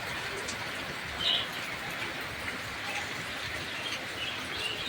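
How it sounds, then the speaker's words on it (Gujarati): Heavy rain falls steadily as a dense, even hiss. A brief louder patter rises once, and faint bird coos sound in the background. "જો અત્યારે વરસાદ સારો પડે છે, જો જોરદાર વરસાદ પડે છે"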